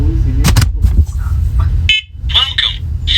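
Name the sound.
fourth generation talking smoke and carbon monoxide alarm sounding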